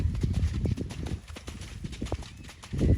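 An 8-year-old 149 cm Welsh Cob mare trots in a sand arena, her hooves thudding in a steady, close two-beat clip-clop over a low background rumble.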